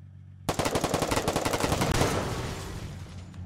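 Rapid automatic gunfire in a video game blows up a motorcycle, a loud sustained burst of dense shots that ends in a fading explosive rumble.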